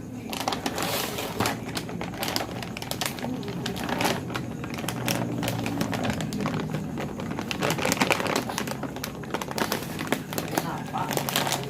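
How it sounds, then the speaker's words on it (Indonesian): A plastic bag crinkles and rustles continuously up close as cat food is packed into it, with dense crackling handling noise throughout and people talking over it. "Ini makanan kucing mau dimasukin plastik."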